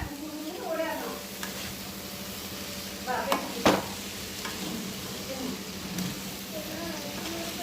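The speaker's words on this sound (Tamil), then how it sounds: "தேங்காய் சேர்த்து கலக்கிறேன்" Grated coconut stirred into a broad bean stir-fry in a pan, giving a low frying hiss with scraping spatula strokes and a sharp clink, while someone talks over it.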